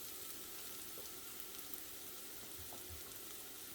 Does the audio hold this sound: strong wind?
no